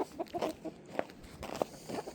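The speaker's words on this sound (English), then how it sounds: "This is a little silky rooster." A small Silkie rooster clucks in short, soft bursts close by, several brief calls spaced irregularly across a farmyard feeding scene.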